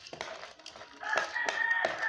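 Chickens cluck and call softly over a couple of seconds while eating a feed mixture, short clucks giving way to a drawn-out tonal call, fairly faint and close.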